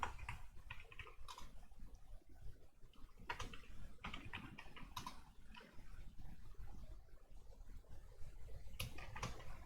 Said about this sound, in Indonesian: kemudian kita ketikkan chdisk